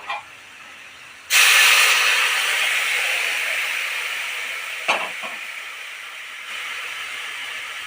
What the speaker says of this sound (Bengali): আলুগুলো সাতলানো হয়ে গেলে জল দিয়ে দেব।